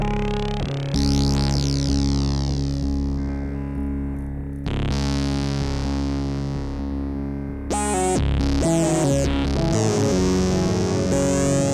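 A Moog Matriarch synthesizer sounds through a Polyend Mess exciter effect, giving loud, dense sustained chords with bright, sweeping harmonic shimmer and distortion. A brief pause and a burst of rhythmic, glitchy notes follow, with no talking.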